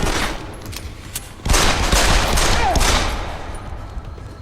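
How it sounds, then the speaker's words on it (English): A rapid burst of gunfire from the video game Deus Ex: Human Revolution, aimed at a man in a sewer area, erupts suddenly after a quieter stretch, rattles on for more than a second, then tapers off. "Okay, we shot him in the leg."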